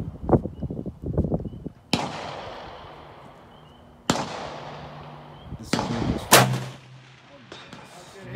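A bolt-action rifle fires at a target 300 yards away: several loud, close shots, each with a long echoing tail, after brief talk at the start. Some muffled voices are heard between the reports.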